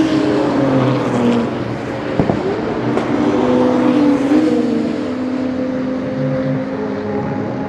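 A Porsche 992 GT3 Cup race car approaches at speed near Eau Rouge, its engine a loud, sustained drone with shifting pitch that holds steady throughout, with no voices over it.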